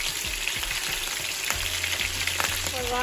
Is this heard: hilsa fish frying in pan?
yes